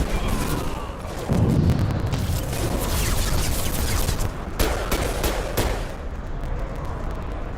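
Dense, sustained weapon fire and booming impacts in a Mass Effect Legendary Edition firefight, loud and continuous across the whole stretch with sharp crack-like transients standing out near the end.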